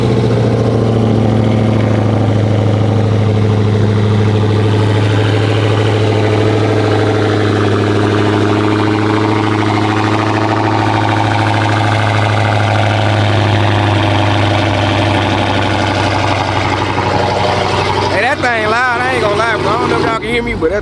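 Dodge Challenger Redeye Hellcat with red Brembo brakes idling loudly, a deep steady engine rumble and exhaust drone running continuously, close and dominant, with a brief rev-like flutter near the end.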